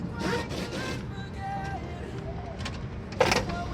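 A Honda Odyssey power sliding door with an opening and closing fault rolls closed with a rattling mechanical slide and ends in a sharp latching thud, heard up close.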